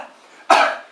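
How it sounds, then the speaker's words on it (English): A single sharp, rough throat clearing bursts out after a brief quiet moment, close and loud, then trails off. "Let me clear my throat."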